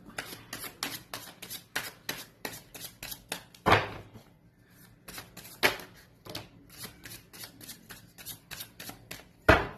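Tarot cards being shuffled by hand, a long run of quick crisp riffling flicks with a few louder snaps and short pauses, close and alone with no talk.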